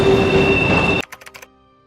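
A speeding train rushes past in an anime scene, a loud continuous roar with a high whine that cuts off abruptly, followed by a quick series of fading clacks.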